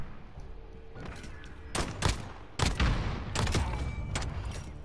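Rapid volleys of video-game gunfire in a Call of Duty match, several sharp bursts and heavy thuds crackling over a steady background hum, loud and close with a small explosion near the end.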